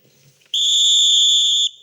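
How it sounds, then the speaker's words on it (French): A single sharp whistle blast sounds loud and close for about a second, signalling the start of a school exam at a BEPC test centre, preceded by faint background murmur. "C'est ce coup de sifflet qui a donné le ton au démarrage de la première épreuve"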